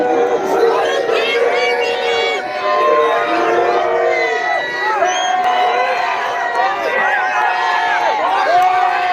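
A crowd of mostly working-class demonstrators boos and jeers at Mary Lou McDonald, a loud, sustained wall of shouting voices with overlapping calls rising and falling, close and continuous.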